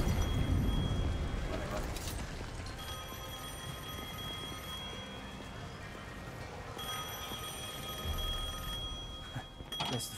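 A telephone rings in a red phone booth on a city street in the video game Devil May Cry 5, its bell tones repeating at moderate volume beneath continuous speech and background game sound.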